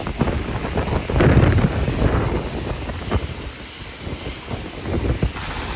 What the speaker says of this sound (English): It's so windy, you can't hear anything.